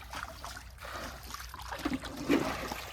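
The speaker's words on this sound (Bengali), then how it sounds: "তো নৌকা এখন রেডি হচ্ছে জল টল ফেলা হচ্ছে নৌকা থেকে" Water is bailed out of a wooden fishing boat on a river, heard as steady splashing and trickling pours with a couple of louder sloshes near the end.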